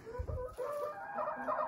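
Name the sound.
old rooster crowing on a farm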